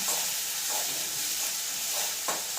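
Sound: crushed ginger and garlic sautéing in pan

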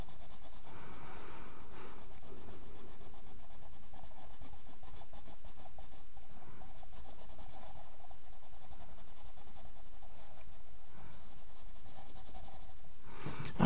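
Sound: shading paper with a brown coloring pencil

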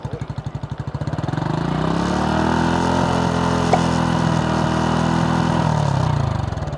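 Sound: motorcycle with Yoshimura full exhaust revving at one-third throttle

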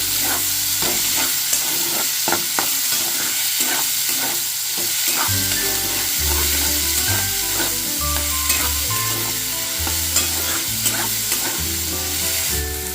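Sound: eggplant and egg frying in a pan

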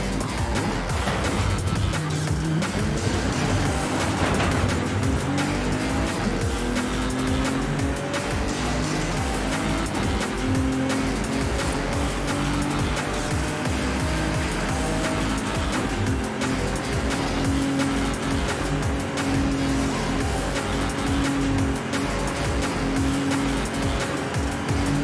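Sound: car driving with tire squeal in Forza Horizon 5 video game

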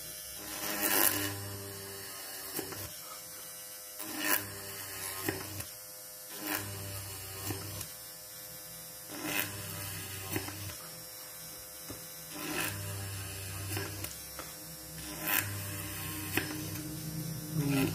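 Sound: motor-driven drill drilling a PCB

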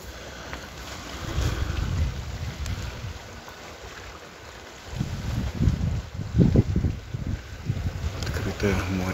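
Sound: sea and wind at the coast

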